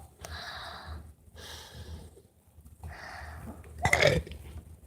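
A single wet burp erupts near the end, loud and close, after a few stretches of breathy, hissing noise and quiet moments.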